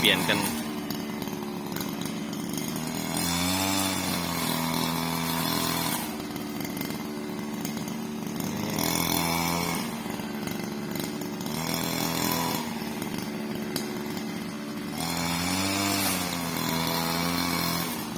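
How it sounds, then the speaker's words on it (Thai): A brush cutter cutting grass on temple grounds, its engine droning loud and steady and rising in pitch in repeated surges as it bites into the grass, with someone talking over the noise. "เปลี่ยนเป็นสัมเนนนะครับ สัมเนนเวียนะครับ ตัดหญ้าแทนนะครับ"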